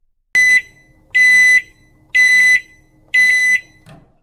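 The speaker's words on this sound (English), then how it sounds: "Then the timer went off." A timer alarm goes off as four loud, harsh electronic beeps in an even rhythm, each about half a second long with short gaps between.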